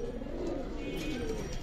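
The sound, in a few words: Silver Military pigeon cooing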